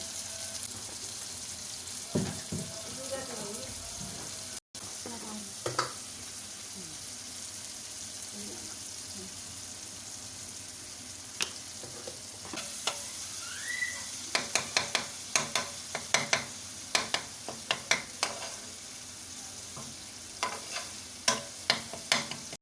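Spices such as turmeric, ground coriander and red chili powder stir-fry in hot oil in a pan for chana dal, with a steady low sizzle and a run of sharp clinks and scrapes of a spoon toward the end.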